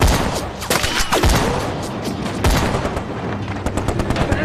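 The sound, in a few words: machine gun fire in a war film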